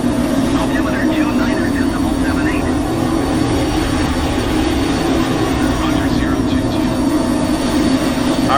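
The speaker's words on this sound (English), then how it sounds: "this is such a great sounding plane. Engine sounds just great." Cessna Citation Mustang C510 jet in Microsoft Flight Simulator, climbing out with its engines producing a loud, steady, unbroken roar that holds an even level throughout.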